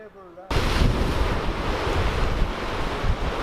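Ocean surf on the oceanfront at Puerto de la Cruz, Tenerife, roars steadily and loudly after a brief quiet moment with a faint voice, with wind buffeting the microphone throughout.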